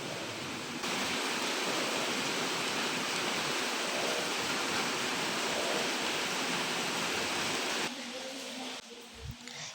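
Floodwater rushing steadily behind a house during a fast-rising river flood, a loud continuous broadband wash that holds for most of the clip before dropping to a quieter trickle with a low thump near the end.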